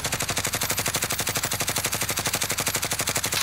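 Sustained automatic weapon fire in Call of Duty: Warzone, a steady fast stream of evenly spaced shots at close range for several seconds, heard alone without talk.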